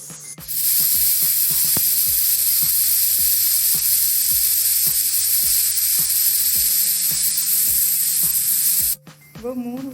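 A pressure cooker on the stove cooking green gram hisses steadily, loud and near, with a repeated rattling pulse from its weight and clinks of kitchen activity, cutting off briefly near the end.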